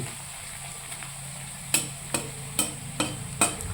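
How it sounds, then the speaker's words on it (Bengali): Onions with salt fry gently in a pan as a chicken dish begins, a low sizzle broken by five or six sharp spatula knocks and scrapes against the pan, growing more frequent toward the end, with no voices. "নুন পেঁয়াজ দেওয়া হয়েছে এটাকে আস্তে আস্তে ঠিক একটু খরাতে হবে আর কি মানে একটু ভেজে নিতে ভালো হবে"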